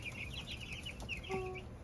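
Meat chickens cluck in a pen beside newly added baby turkeys, a run of soft clucks and chirps close by over a steady background murmur, with one brief higher call near the end.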